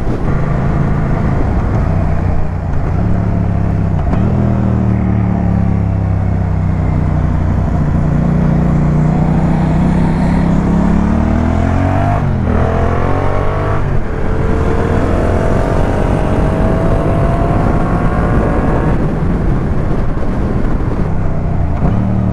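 A Yamaha MT-07 and a Ducati Monster 600 ride together at sunset, engines droning loud and steady under rushing wind, pitch rising and falling through gear changes and acceleration, with no talk.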